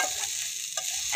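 Pasta and egg fry with salt in a pan, a steady close sizzle with a scraping stir partway through, short and without talk.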